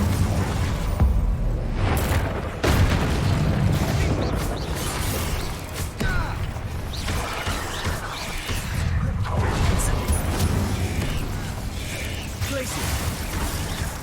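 Spell effects from the video game Hogwarts Legacy, with the Incendio fire spell among them: loud, continuous bursts, whooshes and crashing impacts over a dense game soundscape, with no quiet gaps.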